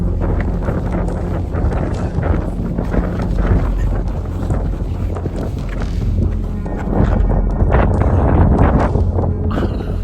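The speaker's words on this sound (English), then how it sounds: "because it is so windy down here" Strong wind buffets the microphone on the shore of the Aral Sea in Uzbekistan, a loud, continuous low roar with gusts that surge and swell, growing heavier toward the end.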